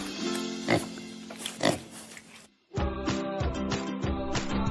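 Pigs grunt and oink in short, snorting bursts, first a few separate grunts, then a steadier run of rhythmic oinks close by.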